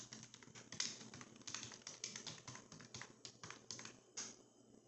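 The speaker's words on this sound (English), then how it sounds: "I'm typing on a keyboard" Fingers tap steadily on a computer keyboard for a few seconds, a quiet, close stream of irregular key clicks with no talking.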